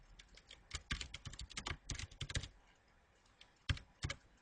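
Clicky keystrokes on a computer keyboard as a password is entered, in irregular bursts that pause briefly before a few sharper final taps; close and clear, with no talking.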